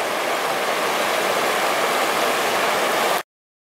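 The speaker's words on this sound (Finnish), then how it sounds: "Komea koski se kyllä on, joo." Rushing river rapids in Finland, a steady broadband roar of churning whitewater, loud and close, continuing unbroken for about three seconds before cutting off abruptly into silence.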